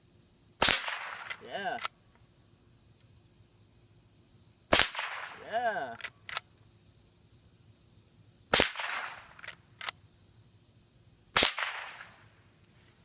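A Marlin Golden 39A lever-action .22 rifle fires CCI Mini-Mag rounds outdoors. Four sharp, close cracks come a few seconds apart, each followed by the clack of the lever cycling. A voice speaks briefly.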